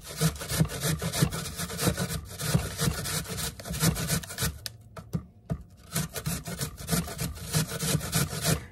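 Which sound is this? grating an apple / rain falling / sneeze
grating an apple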